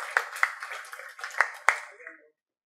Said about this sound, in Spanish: recibamos un voto de aplauso fuerte